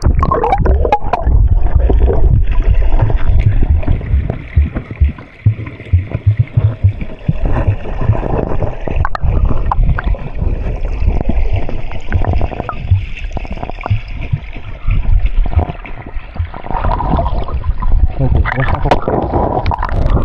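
A village stream in Kokan runs with plenty of water, its gurgling, splashing flow close and continuous under frequent talk and movement nearby.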